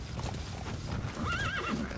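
A horse in Metal Gear Solid V gives a clear rising-and-falling whinny near the end, following a stretch of hooves clattering under game background sound.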